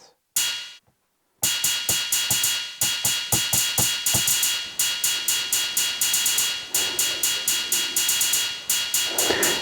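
Programmed ride cymbal on an IK Multimedia UNO drum machine, a steady rhythmic pattern of bright shimmering hits repeating quickly and continuously, loud and close, with no talking.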